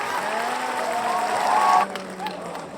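A canned crowd cheer and applause swells steadily, then cuts off abruptly near the end, leaving a quieter, thinner tail of scattered crowd noise.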